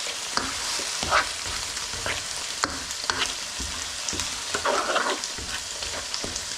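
Chopped tinned tomatoes being stirred into a sizzling curry base for a tofu butter masala, with steady frying hiss and irregular spoon scrapes and clacks against the pan, close by, no one talking.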